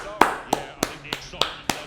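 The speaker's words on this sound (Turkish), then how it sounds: "Ben bu oyuncularımı alkışlıyorum ayrıca." Six slow, evenly spaced hand claps from a single person, close and fairly crisp, with no talking over them.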